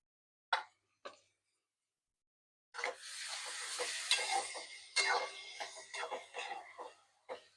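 Tomato added to lightly browned onion sautéing in a pan, stirred: two sharp knocks, a pause, then a steady sizzle broken by repeated scraping strokes of a spoon, close and moderately loud.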